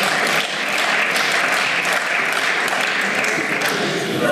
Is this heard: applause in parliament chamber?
yes